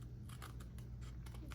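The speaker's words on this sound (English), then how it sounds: "the cutting is taking longer than it should, because these scissors are more for detail and not for big" Small detail scissors snip through paper in a quick irregular series of crisp cuts, close and fairly quiet over a steady low hum.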